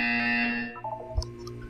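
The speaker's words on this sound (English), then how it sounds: "You will hear a buzzer." A single loud electronic buzzer in Portal 2 blares with a harsh, steady tone that cuts off partway through, leaving faint game sounds behind it.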